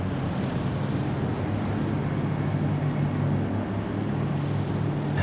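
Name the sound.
race car engines at Suzuka in a racing video game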